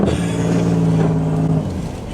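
A Buick Century driven off-road with several exhaust pieces missing gives a loud, close, raw engine drone with a steady low hum before easing off.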